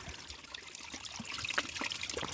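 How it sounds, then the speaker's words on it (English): Water trickles and gurgles through a filter as the press-down filter of a 24-ounce hiking water filter bottle is pushed slowly down, a faint, close, steady dribble with small bubbly pops. "it takes approximately 8 seconds to push the filter down and filter the water"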